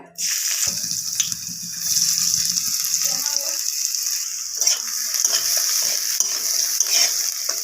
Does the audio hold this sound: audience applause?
no